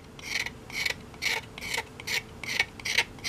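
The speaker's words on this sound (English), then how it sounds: "The first thing I like to do is scrape that off with a pocket knife." Pocket knife blade scraping the shiny finish off a no-name scratch awl, about eight short rasping strokes in a steady rhythm, close and crisp.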